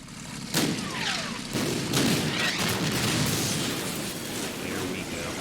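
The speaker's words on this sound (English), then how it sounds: "always love to see those scrap pieces just flying everywhere from the explosion" Explosions and heavy gunfire erupt in the strategy war game Order of Battle: Endsieg, with a sharp blast near the start followed by sustained rumbling booms and crackling debris, while a voice talks over the din.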